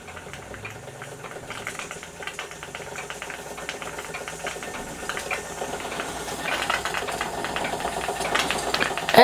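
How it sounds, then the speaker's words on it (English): A Wilesco D455 model steam engine runs slowly, giving a quiet, steady mechanical chuffing and whirring that swells slightly louder near the end, with no talking over it. "it's much nicer to see the engine running slowly than it is, you know, flat out."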